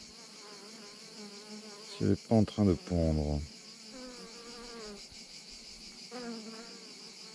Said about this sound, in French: C'est une abeille